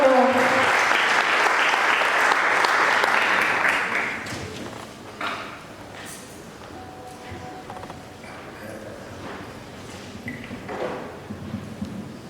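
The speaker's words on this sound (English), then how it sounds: "Let's all give him a applause." An audience at a public lecture on human trafficking applauds the speaker from the UN Office on Drugs and Crime, with loud dense clapping for about four seconds before it thins into scattered claps and room noise.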